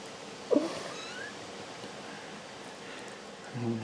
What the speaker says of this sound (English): that's a kitten making noise that the kitten can't jump on the table